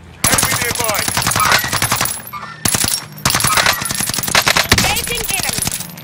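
Rapid automatic gunfire in Fortnite, a nearly recoil-free gun firing long close bursts broken by a short pause, loud and sharp.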